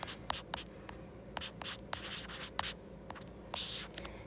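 Pen or marker strokes scratch quickly on a board or paper during a teaching session, a close run of short sharp scratches with brief pauses and a low room hum beneath.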